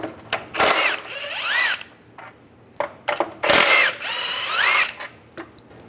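A 13 millimeter socket on a power tool removes steering rack bolts on a 1998–2010 Volkswagen Beetle. Several sharp whirring bursts start and stop quickly, with short quiet gaps and faint metallic clicks between them.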